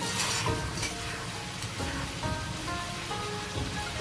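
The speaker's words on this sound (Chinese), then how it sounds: "这时候咱们改成大火，把这个汤汁儿收浓。" Braised pork sauce bubbles and sizzles as it reduces over high heat in a wok, making a steady, dense crackle with soft stirring scrapes close by.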